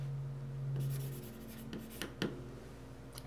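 Soft scratching of a freshly sharpened pencil with a concave tip writing on paper, a few brisk strokes over a low steady hum, close and quiet.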